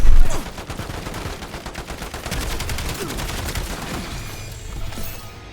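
Rapid gunfire from a weapon during shooting practice in the game Black Ops 7, a dense run of repeated shots with a loud burst at the start, then steady automatic fire that thins out toward the end.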